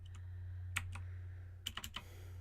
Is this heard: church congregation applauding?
no